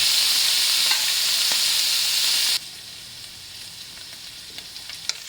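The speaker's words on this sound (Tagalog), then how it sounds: "Atin mo nang ipiprito yung ating giniling." Ground pork fries in a pan with a loud, steady hiss and sizzle for the first half, then drops to a quieter sizzle with scattered faint pops and clicks; no talking.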